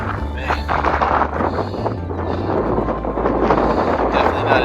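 Strong wind buffets the microphone on the summit of Mount Marcy, a loud continuous low rumble with gusty surges throughout.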